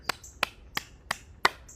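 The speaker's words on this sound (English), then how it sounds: "Clap your hands." Five sharp hand claps spaced evenly about a third of a second apart, close and fairly loud, in a quiet outdoor setting in Cape May, New Jersey.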